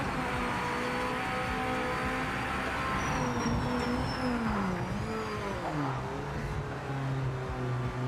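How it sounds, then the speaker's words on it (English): A car engine in a racing video game with a whiny, drill-like tone, revving up and down with gear shifts, loud and continuous with no talking. "Black & Decker engine? Yeah, sounds like something out of a power drill."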